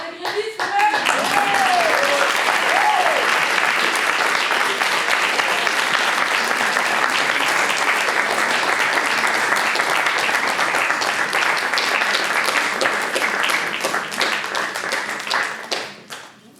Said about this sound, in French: On va en profiter pour applaudir les grévistes